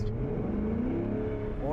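Chevrolet C8 Corvette engine droning loud and steady from inside the car, pitch climbing gradually and then rising sharply at the end, with someone talking over it.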